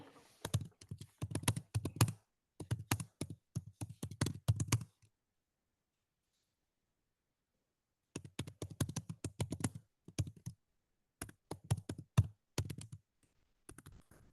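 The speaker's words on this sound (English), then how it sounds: "now all I'm going to do is type in" Someone types on a computer keyboard in bursts of rapid, close clicking keystrokes, pausing for a few seconds in silence before resuming, with no talking.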